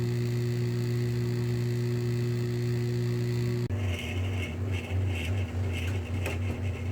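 A GE stackable washer-dryer combo's washer drum spins with its lid locked, giving a steady low motor hum and drone that shifts pitch midway, accompanied by faint rhythmic mechanical whirring and rattling.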